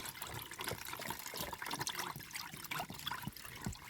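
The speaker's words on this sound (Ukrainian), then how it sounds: "І ми вливаємо сироватку, проціжуємо." Whey poured from a container and strained through old cotton cloth into a bucket, giving a continuous close trickling, splashing flow at moderate volume with small gurgles throughout.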